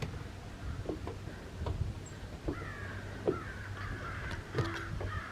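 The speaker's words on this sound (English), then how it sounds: "Hear the birds, the crows." Several crows caw repeatedly outdoors, harsh calls scattered over a low steady background hum, some nearer and louder than others.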